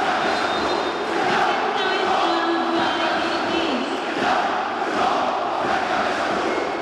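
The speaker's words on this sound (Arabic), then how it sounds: "وادي بقى الجمهور العزيز جمهور النادي الاهلي" Al Ahly supporters at a men's African volleyball championship final against Talaea El Gaish roar and chant continuously in a large indoor arena, a dense, sustained crowd wash with no breaks.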